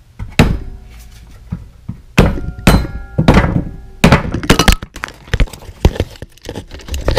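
Hammer tapping on a mower crankcase in a workshop, a series of sharp metallic knocks and thunks in irregular clusters, close and fairly loud.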